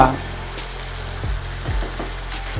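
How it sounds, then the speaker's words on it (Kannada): Gojju, a tamarind sauce for temple-style puliyogare, bubbling in a pan, a continuous close sizzle and simmer with a few faint utensil taps and no speech. "ಇಲ್ಲಿ ಈ ಗೊಜ್ಜೆಲ್ಲ ಚಂದ ಕುದೀತಾ ಇದೆ."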